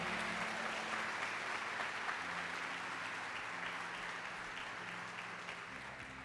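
Sustained applause from a church congregation fills the hall, steady and loud throughout with broad clapping texture, a low hum of music or organ underneath, tapering slightly near the end.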